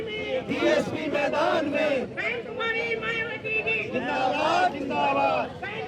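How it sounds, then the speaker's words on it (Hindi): A large protest crowd demanding Amit Shah's resignation roars and chants in a dense, continuous wall of shouting voices, with loud overlapping cries rising and falling throughout. "तमाम लोगों की भीड़ जो है इस वक्त यहाँ पर जुटी हुई है और अमित शाह के इस्तीफे की मांग कर रही है"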